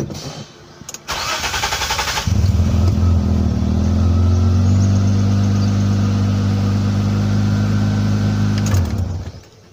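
An engine with a misfire and high RPM that stalls while driving cranks briefly, catches after about two seconds and settles into a loud, steady mid-pitched idle, then cuts off near the end.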